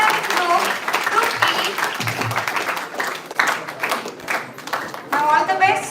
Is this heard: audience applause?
yes